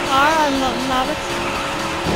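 Race car from the Daytona USA video game on PS3 skidding and crashing on the final lap, with a loud wavering tire squeal and engine roar that fade into a steady game rumble.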